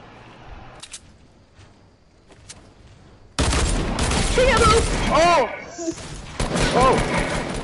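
Bursts of gunfire ring out in Fortnite, faint scattered shots at first, then a loud dense stretch of rapid fire with excited voices talking over it.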